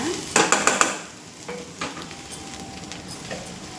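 Curry ingredients for an aloo-peas curry fry in a pan with a quiet steady sizzle, broken by a quick run of spatula scrapes and taps that fade into softer stirring.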